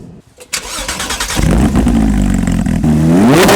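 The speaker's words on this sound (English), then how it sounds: "But your car has aftermarket exhaust, and it's loud." A Porsche GT3 RS fitted with an aftermarket exhaust fires up loud and close, a brief crank then a burst into a steady rumbling idle that climbs in a short rev near the end.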